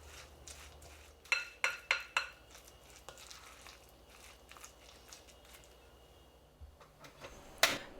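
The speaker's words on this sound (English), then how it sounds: "Add the rest of chopped vegetable and mix well." Chopped cabbage and other vegetables for okonomiyaki are mixed in a bowl, with soft rustling and several sharp utensil taps against the bowl in a quick rhythmic burst, then quieter stirring.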